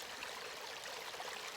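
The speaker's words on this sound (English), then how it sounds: "just listening to the birds and the water" A burn of water flowing steadily past a fallen log, a continuous bright rushing and trickling wash, close and fairly soft, with no voices.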